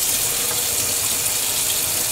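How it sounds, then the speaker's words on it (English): Cold water pours steadily from a kitchen tap, a continuous close splashing hiss with no pauses and no voices. "tap run for a few seconds to get the very cold water"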